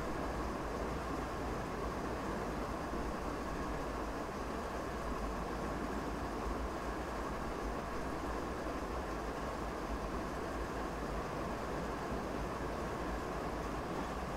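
A long freight train with Canadian Pacific Railway cars rolls out of sidings on a Canadian mountain pass in a train simulator, giving a constant low rumble and rail roar at even volume throughout.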